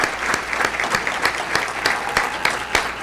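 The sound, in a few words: audience applause for a high school brass ensemble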